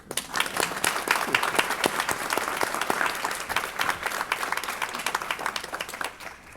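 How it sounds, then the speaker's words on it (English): Audience applause at a school board of education meeting honoring a retiring teacher, steady dense clapping from a roomful of people, fairly close and continuous, tapering slightly at the end. "We can clap for that"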